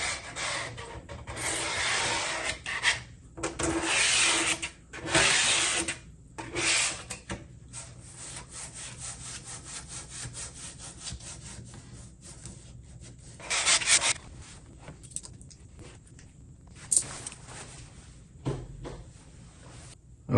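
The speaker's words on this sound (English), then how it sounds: "Squeegee." Squeegee pressed over Qualsen total blackout window film on glass, giving repeated rubbing and squeaky scraping strokes in bursts over about twenty seconds, close and fairly loud, with short pauses between passes and no talking.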